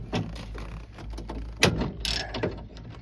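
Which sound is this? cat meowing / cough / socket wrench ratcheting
socket wrench ratcheting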